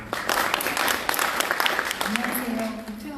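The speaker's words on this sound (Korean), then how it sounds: "박수로 맞으시죠" Audience applause at the LODAC 2019 Korean conference welcomes a Korea Research Institute for Human Settlements speaker, a dense burst of claps for about two seconds that gives way to a voice.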